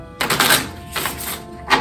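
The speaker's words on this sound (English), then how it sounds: "I split it kind of right down the middle for one shuffle, and one successful shuffle" A deck of playing cards split down the middle and riffle-shuffled up close, giving two dense bursts of rapid fluttering clicks with a short pause between them.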